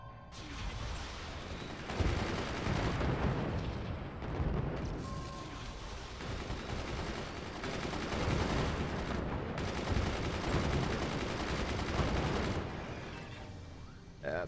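Machine gunners firing in the Forts multiplayer strategy game, a dense continuous roar of gunfire and explosions filling the whole stretch, loud and unbroken with brief dips.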